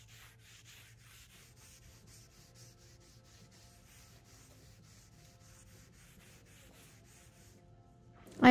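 A rag wipes wood stain in long strokes along the grain of a DIY modern platform bed's boards, giving soft, repeated rubbing swishes at an even pace, faint and close with no talk.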